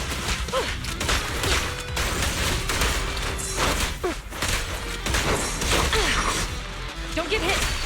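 Rapid gunfire in the Zenless Zone Zero video game, dense overlapping shots and impacts blending with busy combat effects, loud and steady throughout with no pause.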